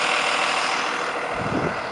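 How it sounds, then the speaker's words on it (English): A Freightliner Snap-on step van's engine rumbles steadily at a low idle, heard from outside at moderate distance with broadband road-like noise and no talk. "And what you hear here is the sound of a Freightliner snap-on"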